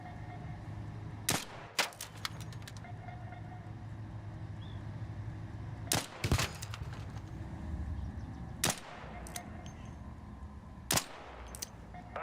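Gunfire in the video game ARC Raiders: sharp, loud single and double shots crack out at irregular intervals over a low ambient game hum, with quiet stretches between bursts.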